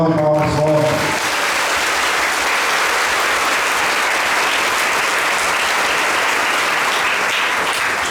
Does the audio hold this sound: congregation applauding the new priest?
yes